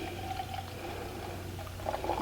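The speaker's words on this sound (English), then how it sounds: "So let's give it a pour." Bourbon barrel aged imperial stout from Ellicottville Brewing Co. poured into a glass, a steady close liquid pour with a soft gurgle swelling toward the end.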